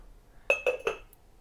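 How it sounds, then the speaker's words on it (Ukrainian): Glass flower vase handled in a quick run of three light clinks about a fifth of a second apart, close and fairly quiet against a low background, with a brief high ring after. "Ось така ваза для квітів."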